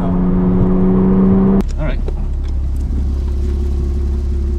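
A Porsche Cayman 987.1 driving, its steady engine drone under a loud humming tone early on, then a brief clatter and a lower continuous road and engine rumble, with a voice speaking briefly.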